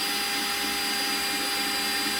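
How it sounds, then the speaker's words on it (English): Drill boring a pilot hole with a 5/64 bit during an RV entry door makeover, giving a steady, loud, high motor whine that runs unbroken through the short stretch, with no talking. "I'm going to screw a little pilot hole here. I'm going to use a 5/64 bit."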